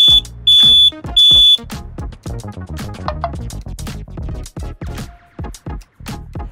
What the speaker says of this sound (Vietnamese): có ai đó đột nhập vào nhà chúng ta, thì bộ thiết bị của chúng ta sẽ báo động